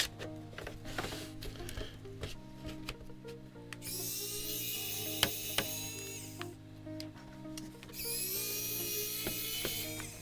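A mechanical keyboard case, the KBM1800 / James Donkey RS2, has its screws taken out with a small driver, giving faint ratcheting clicks and whirring bursts of a powered screwdriver that start and stop several times.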